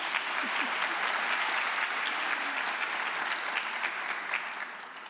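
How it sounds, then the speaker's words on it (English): Audience applause for award recipients at a high school class of 2024 honors convocation, a steady wash of many hands clapping that holds throughout and tapers slightly at the end. "you can applause for them"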